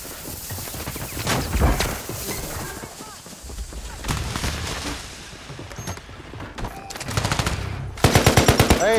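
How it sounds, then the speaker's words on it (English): Rapid automatic gunfire from a Call of Duty match on the Urzikstan map, bursts crackling throughout with a loud, close stuttering volley near the end, mixed with game noise and voices talking. "Bro, they're shooting me through the fucking wall."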